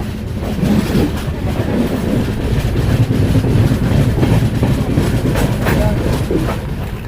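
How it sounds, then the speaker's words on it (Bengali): The Kanchan Kanya Express 13149 pulls away from New Mal Junction with a loud, close, continuous rumble and rhythmic wheel clatter, buffeted by wind on the microphone. "চলে গেল আমাদের ট্রেন কাঞ্চনকন্যা এক্সপ্রেস"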